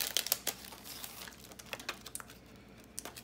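Stickers being peeled and pressed into a Happy Planner for a Thanksgiving-themed layout, with soft, faint crinkles and small taps scattered irregularly, close by and with no talking.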